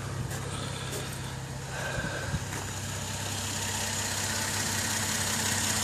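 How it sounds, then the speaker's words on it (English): Car engine idling while running on a Waterfuel Fuelmaker hydrogen dry cell under the bonnet, a steady low rumble with slight knocking, close and moderately loud, no talk. "the motor is currently running on the Waterfuel Fuelmaker hydrogen's dry cell"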